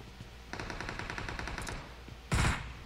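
Rapid automatic gunfire in a video game shooter, a steady burst of rattling shots followed by a louder, heavier blast near the end, with no talk over it.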